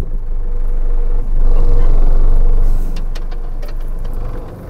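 Engine of a Mercedes Unimog caravan truck runs steadily at close range, a deep low rumble that swells louder for a couple of seconds before settling back, with faint clicks and knocks on top and no talking.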